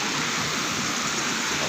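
Small hidden waterfall in a forest camping spot, a dense continuous roar of falling water heard close and loud, unbroken by voices.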